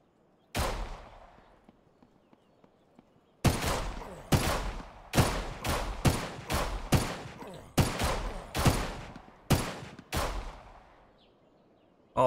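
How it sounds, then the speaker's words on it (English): Gunshots in a Humanitz video game shootout in a bandit city: a lone loud shot, a pause, then a rapid irregular string of about a dozen sharp cracks, each trailing a short echo, with one more at the end. "I'm just going to start shooting at that guy."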